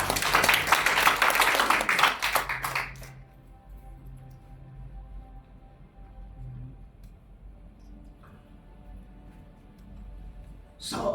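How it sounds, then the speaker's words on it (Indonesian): Church congregation applauding together, a dense burst of clapping for about three seconds that cuts off sharply, leaving a quiet hall with faint low rumble and a brief soft rise near the end. "Boleh berikan tepuk tangan."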